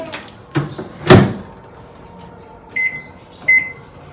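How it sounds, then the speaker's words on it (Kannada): A microwave oven heating oats with milk: a door clunks shut firmly, then two short electronic beeps follow a moment apart at close range, with a faint hum underneath. "ಸೊ ಇದನ್ನು ನಾನು ಮೈಕ್ರೋವೇವ್ನಲ್ಲಿ ಇಡ್ತೀನಿ"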